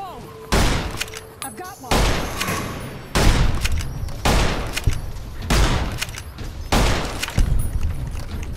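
Heavy gunfire in the post-apocalyptic Western shooter Fallout: New Vegas, a series of loud booming shots roughly every second, each trailing into a short rumbling decay, with no talk over them.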